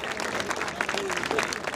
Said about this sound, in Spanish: Fuerte el aplauso para despedir al ensamble de la escuela número 35.